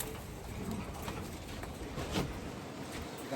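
Racing pigeons, including blue bars, coo softly inside a loft on a windy day, their low murmurs half-buried in steady broadband wind rush and ambient noise.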